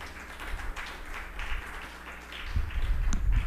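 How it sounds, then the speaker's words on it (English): Audience applause for journalists at an investigative journalism prize ceremony at a university in Belize, a soft, diffuse patter of clapping in a room with low rumbling, growing somewhat fuller toward the end. "So please, again, give the journalists a round of applause."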